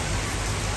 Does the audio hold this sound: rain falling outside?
yes